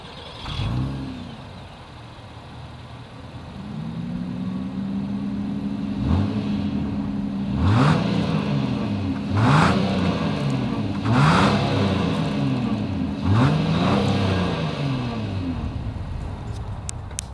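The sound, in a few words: 2022 Acura MDX dual exhaust engine revving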